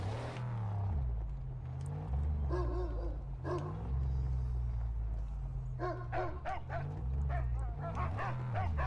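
A dog in the Mad Max video game whimpers and gives several short yips and barks in bursts, over a constant low engine rumble, with no one talking.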